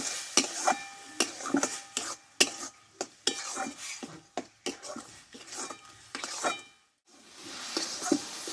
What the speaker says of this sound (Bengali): দেখো ঘি দিয়ে ভালোভাবে আমি গাজরটা কষে নিয়েছি